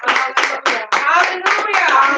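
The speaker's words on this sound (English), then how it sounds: "Let's give him a hand clap." A church congregation claps along in a steady rhythm of sharp, broadband bursts, with loud voices calling and singing over the claps throughout.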